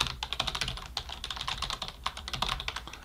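Rapid, close typing on a computer keyboard as an email address is entered, steady clattering keystrokes throughout with no speech.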